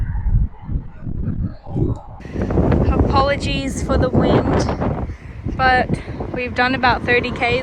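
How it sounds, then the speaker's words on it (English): Strong wind buffets the microphone while cycling the Edinburgh to Glasgow route, a constant low rumble under someone talking throughout. "Apologies for the wind"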